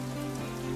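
Rain falls steadily onto a surface, a dense, even patter heard close by in a brief burst with a faint tonal hum underneath.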